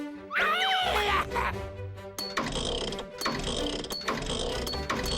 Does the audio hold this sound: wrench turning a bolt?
yes